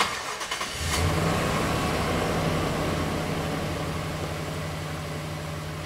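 Engine sound from a toy car starts abruptly, then settles into a steady revving drone that runs for several seconds, loud and close, with no one talking over it.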